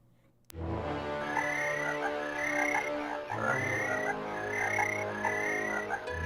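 A frog in the horror video game Alone in the Dark croaks repeatedly in a steady rhythm, loud and close, over a sustained low ambient drone after a sharp start.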